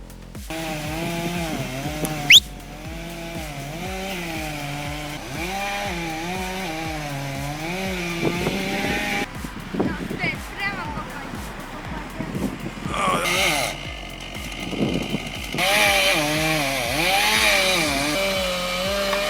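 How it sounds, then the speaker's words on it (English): A chainsaw cuts into a tree while logging, its whining two-stroke note rising and falling as the throttle changes. A sharp crack sounds early on, followed later by thuds and rustling, and voices can be heard in places. "Guy goes in with a chainsaw"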